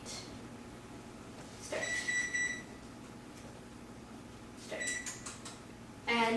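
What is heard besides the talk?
oven control panel beeps when setting preheat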